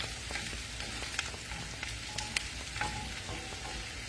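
Onions for gravy sizzle and fry in a pan with a constant crackling hiss, a few sharper pops and light stirring clicks scattered through.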